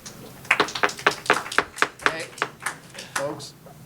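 Scattered handclaps from an audience at a city council meeting, a burst of irregular sharp claps of moderate loudness heard from a short distance, fading out after a few seconds.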